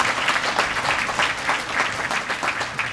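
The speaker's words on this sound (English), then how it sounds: "let's have a round of applause for these young ladies" Steady, bright applause from an audience at an airports annual report event, recognising young scholarship recipients, with many hands clapping continuously at an even level.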